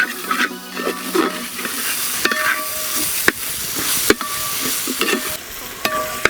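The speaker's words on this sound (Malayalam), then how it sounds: "തക്കാളിയൊക്കെ നല്ല വെന്തോടേന്ന് വേണ്ടി നമുക്കൊന്ന് യോജിപ്പിച്ച് കൊടുക്കാം." Tomatoes frying in a pan for a Kerala-style rabbit roast are stirred with a spoon, giving a steady sizzle and hiss broken by sharp scraping clinks of the utensil against the pan at irregular intervals.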